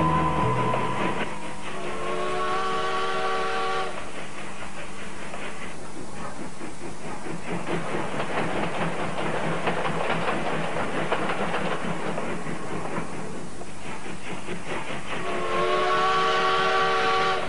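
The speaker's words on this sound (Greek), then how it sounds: "Μια παλιά ατμομηχανή τραβούσε ένα βαγόνι και τους ελάχιστους επιβάτες." An old steam locomotive hauls a single train wagon, its steady chugging and rumble running throughout, with a loud whistle sounding at the start and again near the end.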